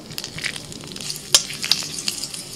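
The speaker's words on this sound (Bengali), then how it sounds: "কড়াইতে তেল দিয়ে ফোড়নে দিচ্ছি এলাচ," Quiet, close crackling and spitting of cardamom, cinnamon and cloves in hot oil in a wok, with scattered sharp pops over a soft sizzle and no talking.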